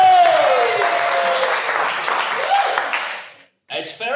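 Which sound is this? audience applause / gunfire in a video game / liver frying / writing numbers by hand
audience applause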